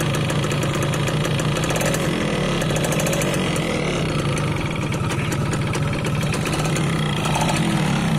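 A 20-year-old Yamaha F1ZR two-stroke motorcycle engine idles close by, loud and continuous, with a rough, uneven chugging and mechanical rattle throughout.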